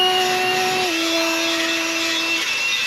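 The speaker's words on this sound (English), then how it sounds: "when you're running a wire wheel like that" A wire wheel spins on the crashed steel bumper of a Polaris Sportsman, a steady close whine with a tone that dips partway through and holds, running alone without talk.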